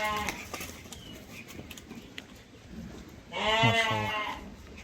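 Lambs at a breeding farm give a loud, close bleat near the end after quieter rustling, with a few faint bird sounds earlier.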